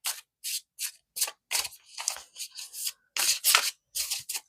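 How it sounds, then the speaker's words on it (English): A deck of oracle cards being shuffled in quick bursts, a series of crisp riffling rustles separated by short pauses, close and fairly loud. "Oh, they're just a dream to shuffle."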